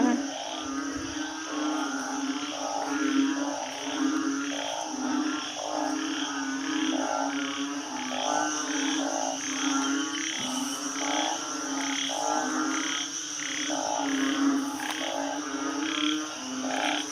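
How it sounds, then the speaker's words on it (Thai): Banded bullfrogs in a flooded backyard garden after heavy rain keep up a dense, rhythmic chorus of pulsing croaks, steady and moderately close, with no talking. "เดี๋ยวพามาฟังเสียงอึ่งอ่างนะคะ"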